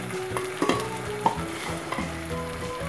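Chicken korma being stirred in a pan with a spoon, steady sizzling under a few scraping clinks of the utensil against the metal, close and alone with no voices, over about three seconds.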